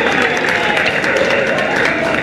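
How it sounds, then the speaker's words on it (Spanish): An audience at a singing contest elimination round gives a dense, steady round of loud applause, crowd noise filling the whole short stretch. "Un fuerte aplauso para ella."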